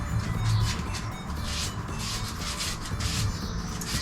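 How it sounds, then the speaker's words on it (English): Grease and dirt being scrubbed off engine parts of a Howard 350 rotavator, a soft, continuous rubbing and scraping close by, with no talk. "We won't get a good bond if we don't get all this grease off."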